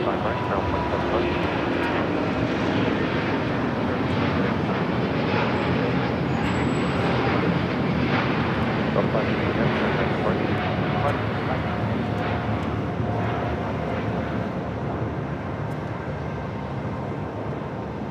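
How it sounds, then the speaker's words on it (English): An American Airlines Boeing 737 MAX 8 taxis across runway 25 right at LAX, giving a continuous, even jet engine rumble and whine for the whole stretch, with voices faintly under it. "American Airlines flight 1668 coming in from the Valley of the Sun at Phoenix, Arizona, 737 MAX 8 crossing over 25 right"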